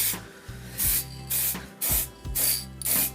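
Aerosol can spraying satin finish paint onto engine cylinder heads in short repeated bursts, five hissing blasts separated by brief pauses and faint rattles, close and clear.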